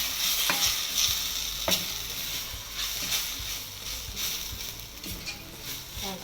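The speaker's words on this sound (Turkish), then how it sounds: "Ama karıştırın." Semolina halva is stirred in a pan on the stove, with a soft continuous frying hiss broken by sharp scraping clicks of the spoon against the pan at irregular intervals.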